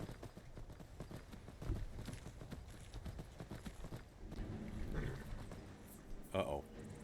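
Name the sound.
horse hooves clip-clopping in Skyrim video game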